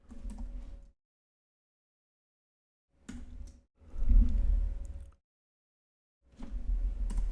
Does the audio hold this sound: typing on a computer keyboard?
yes